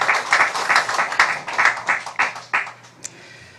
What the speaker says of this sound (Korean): 우리 수고한 우리 성가대 한번 경의의 박수 하겠습니다.